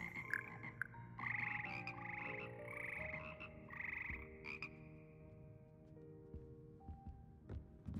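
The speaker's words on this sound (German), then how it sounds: "Hier sitzen die schleimigen und doch melodischen Frösche, die den Froschchor von Hogwarts bilden." A magical frog choir in Hogwarts Legacy croaks in tuned, sustained calls that rise and fall like sung notes, layered over soft game music.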